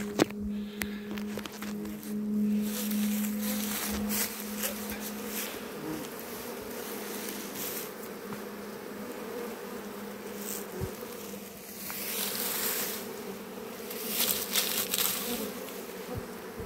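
A dense, continuous buzzing of a honeybee swarm, close and steady throughout, with occasional louder passes and light rustling.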